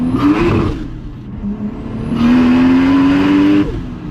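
A Toyota Supra Mk4 accelerates hard, its engine note climbing steeply in two loud revving pulls separated by a brief lift, heard from inside the car with almost no talk.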